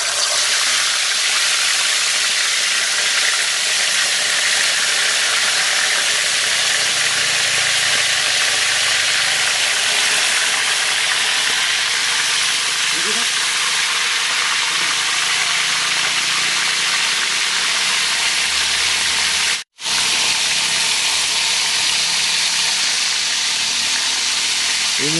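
Steady, loud sizzling hiss of chicken frying in hot oil, continuous and close throughout, with a brief dropout near the end.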